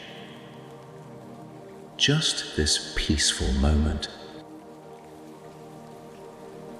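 Gentle rain falls on leaves above a soft, mossy forest path, a steady, even patter running throughout, while a calm voice speaks briefly in the middle.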